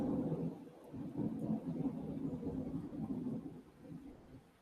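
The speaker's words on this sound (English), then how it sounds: "I'll take the loud thundering sound as a yes." Deep rolling thunder from a storm close by, a low continuous rumble that swells and fades over several seconds, moderately loud with no voices.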